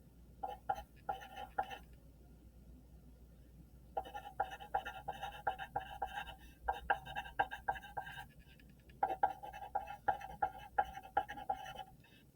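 A pen or marker scratches out a number in short, faint bursts of writing with pauses between them, close by in a quiet room.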